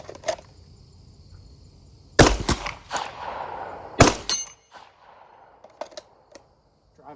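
Pistol shots ringing off steel targets set at 50 yards on an outdoor range, a few sharp loud cracks with metallic ring, spaced apart with a brief pause between bursts.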